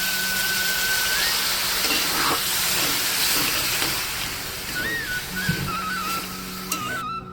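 Water poured into a hot pan of fried potatoes sets off a loud, steady hiss of sizzling steam lasting several seconds, close and continuous, with faint clatter and no talk.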